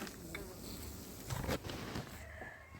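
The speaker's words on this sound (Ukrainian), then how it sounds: "Бджоли." Honeybees buzzing at an opened hive of a weak colony wintered in a polystyrene box, a faint steady drone with a slight swell in the middle.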